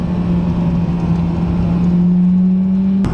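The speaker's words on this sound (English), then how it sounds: "Got a corner coming up now, so you're going to into third, braking hard, into second." A car engine holds a steady low drone while braking into a corner during heel-and-toe downshifting, loud and close, then a brief sharp blip near the end as the revs change.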